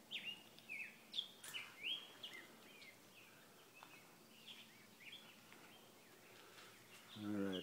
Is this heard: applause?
no